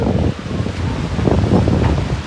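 Strong storm wind gusts through mango trees, a steady loud rush of rustling leaves and low buffeting roar, with no voice standing out.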